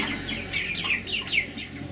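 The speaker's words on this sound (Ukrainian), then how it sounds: "придбав я в своє господарство отаких курей бройлерів" A group of broiler chickens clucks and murmurs continuously up close, overlapping soft calls with no voices.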